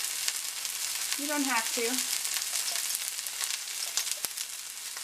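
Steak searing in a pan, seasoned with cracked pepper and garlic powder: a steady, bright sizzle throughout. A brief short phrase of speech sits over the frying near the start.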